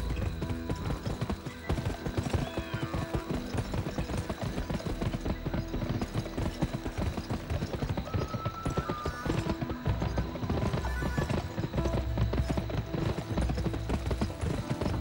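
Rapid, rhythmic hoofbeats of galloping horses in a horse race in the video game GUN pound steadily throughout, with occasional neighs and a busy background of game sounds.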